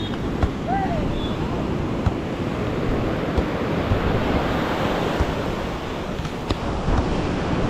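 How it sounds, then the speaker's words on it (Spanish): Ocean waves wash onto the sandy beach at Playa del Carmen in a continuous broad roar of surf, with wind buffeting the microphone and no voices. "Aquí en esta playa, frente al Portal Maya, hay mucha arena, mucha playa."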